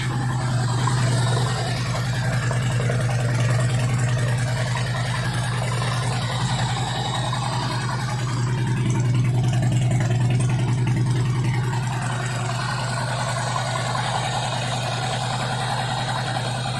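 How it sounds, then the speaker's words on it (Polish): A Harley-Davidson motorcycle engine idles steadily up close, a low continuous hum with a faint mechanical whir, holding an even pace for the whole stretch with no voices. "Ogień i motocykl pracuje."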